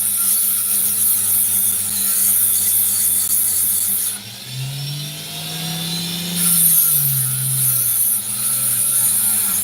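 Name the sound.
slicing sandy opal rock with a saw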